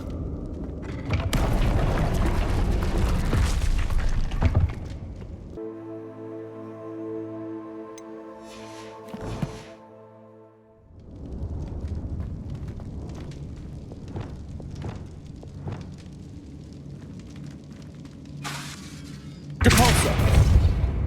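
Confringo fire spell blasts in the video game Hogwarts Legacy: several loud booming explosions with crackling bursts, separated by a tonal humming stretch, with a final sharp blast at the end.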